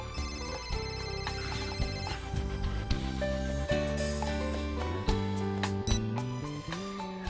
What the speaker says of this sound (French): Ton téléphone. Tu devrais répondre.